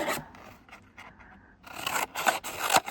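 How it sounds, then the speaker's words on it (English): Scissors cut out an ink-blended greeting card piece, giving close, quiet snips and paper rasps that grow louder and busier in the second half, with no speech. "So I am going to cut it out"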